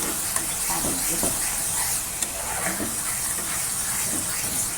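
Onions and ginger-garlic paste fry in hot oil with a steady, close hiss and sizzle that runs throughout, dotted with faint stirring scrapes.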